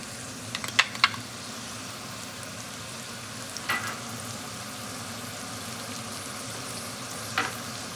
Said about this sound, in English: You're going to want to allow this to saute for at least a good, I'll say 3 to 4 minutes